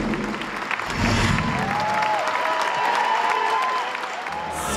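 A first-night theatre crowd at the premiere of the King Kong musical applauds steadily, a dense wash of clapping with faint cheers and a few whistles rising through it.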